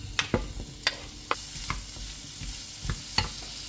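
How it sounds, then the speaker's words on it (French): Onions frying in a little olive oil in a pan, a steady soft sizzle with occasional scrapes and clicks of a utensil stirring, close and moderately loud, no voices. "Puis je fais revenir les oignons."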